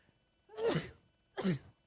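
Two quick sneezes in a row, close and fairly loud, with silence around them.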